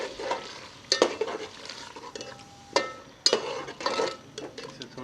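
Mutton ojri (tripe) being stirred with yogurt in a pot, with repeated scraping and clanking of a spoon against metal over a soft background sizzle.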